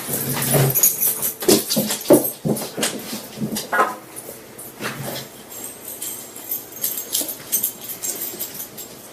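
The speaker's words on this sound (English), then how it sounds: "the dog you see in the background is our service dog" A service dog whimpers and yips indoors in several short, uneven bursts, some close and fairly loud, with faint background noise between them.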